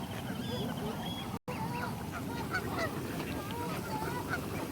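Geese honk repeatedly at a park, several birds calling in overlapping bursts at close to moderate distance over steady outdoor background noise, with a brief dropout partway through.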